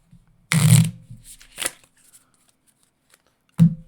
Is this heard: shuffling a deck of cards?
yes